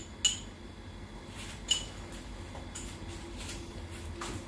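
Mutton tripe being mixed by hand with salt, dried coriander, red chilli powder and garlic ginger paste: two sharp metallic clinks of a utensil against a pot, then soft, faint scraping and tapping over a quiet background.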